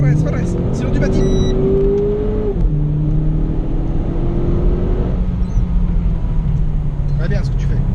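Renault Clio 4 RS engine on a race circuit, a steady loud interior drone whose pitch climbs under throttle, dips sharply at a gear change, then holds a lower, even tone, with a brief voice at the start.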